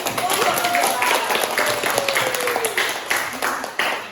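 Applause fills a classroom in a short burst of dense, close clapping from a group, mixed with chatter and raised voices.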